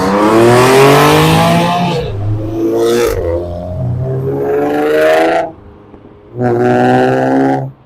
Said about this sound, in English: I'm pretty sure 3 cars that noisy, that close together, know each other